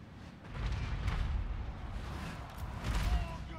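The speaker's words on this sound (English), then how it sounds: "And regular cannon fire." Cannon fire booms in the video game Total War Warhammer 2 during a dwarf battle, deep low rumbling blasts rolling one after another at moderate distance, with no clear talk over them.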